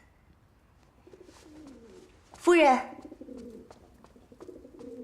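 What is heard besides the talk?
pigeons cooing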